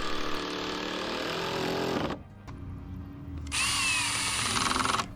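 A power drill drives large screws through sheet metal into framing on an RV being converted to a cargo trailer, whirring loudly for two seconds, pausing briefly, then running again close by.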